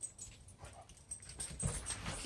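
A little puppy whimpers softly in short, intermittent whines and yips, faint and close, with quiet rustling in the background.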